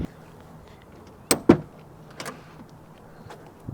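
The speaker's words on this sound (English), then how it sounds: "pressing that button in and hearing that click as the door releases" The chrome door button on a 1984 Buick Riviera gives a couple of sharp close clicks as the door latch releases, followed by softer clunks of the door moving, in a quiet setting.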